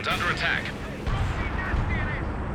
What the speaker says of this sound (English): A lot of artillery out the back here though.